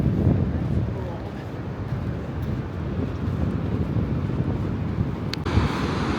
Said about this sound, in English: It's nice that we got the sound of the ocean.